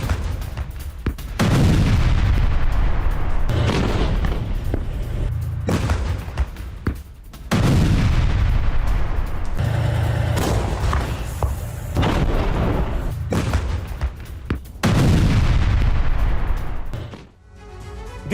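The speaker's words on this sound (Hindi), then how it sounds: "अवदिव्का में रूस के आर्टिलरी हमले, यूक्रेन के कई सैन्य वाहन नष्ट हुए, कई यूक्रेनी चौकियों पर रूस की गोलीबारी" Russian artillery and gunfire strike Ukrainian positions near Avdiivka, with repeated heavy booms and rumbling blasts at intervals of several seconds and continuous crackling fire in between.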